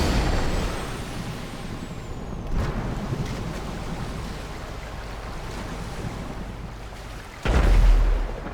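The Pounder Custom truck in GTA Online rumbles with a steady engine drone and wind-like noise, a brief whoosh midway and a loud air-brake hiss near the end.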